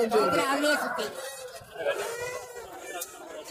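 Chickens cluck at a busy rooster market in Kunnathur, heard close under people talking over them.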